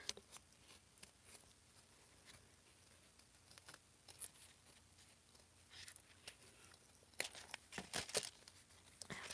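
Scissors snip around a paper tag for a junk journal, a faint series of short, crisp cuts and light paper rustles in a quiet room.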